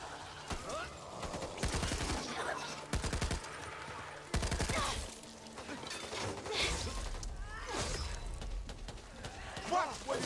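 Video game gunfire in Back 4 Blood co-op play, repeated loud bursts of automatic shots in clusters with crashing impacts between, close and punchy, with voices talking over the fighting.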